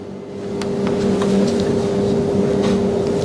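A laboratory centrifuge spinning at 14,000 rpm during plant DNA isolation, a loud, steady hum with a fixed tone that rises slightly at the start and then holds, close up with no speech.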